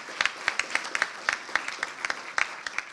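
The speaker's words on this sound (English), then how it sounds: "So give yourselves a round of applause." Audience at a children's summit giving a round of applause, a steady crowd clapping texture with distinct individual sharp claps standing out near the microphone throughout.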